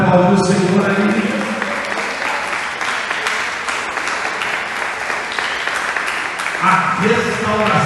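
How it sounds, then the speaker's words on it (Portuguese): Congregation applauding in a church, sustained clapping from many people with a preacher's voice over it, loud and steady throughout. "Você pode aplaudir o Senhor aí"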